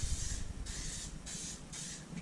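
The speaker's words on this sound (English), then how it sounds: "I've got some cooking spray here. Canola oil." Canola oil cooking spray hisses from an aerosol can onto a cast iron pan in four short bursts with brief gaps between them, close and fairly loud, with no talking.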